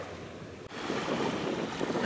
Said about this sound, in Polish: wieje wiatr